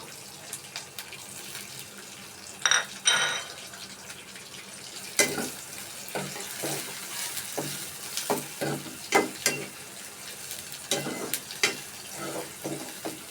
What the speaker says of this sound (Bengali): কেটে রাখা আমি টমেটোগুলো দিয়ে দিচ্ছি।